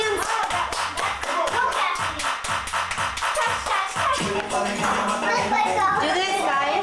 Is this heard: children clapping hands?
yes